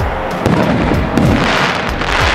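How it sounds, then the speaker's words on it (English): Fireworks go off outdoors as a dense, continuous rumble of overlapping booms and crackles, loud and steady throughout. "Maybe they're scared of the fireworks."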